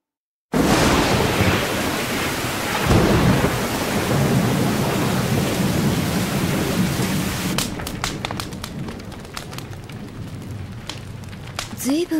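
A thunderstorm sound effect from an anime audio drama: steady heavy rain with a rolling thunder rumble throughout, growing sparser and dripping toward the end.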